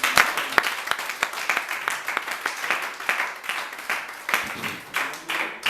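A church congregation breaks into dense, sustained applause during a French-language sermon, many hands clapping in an uneven, rippling wash at close range with no clear speech.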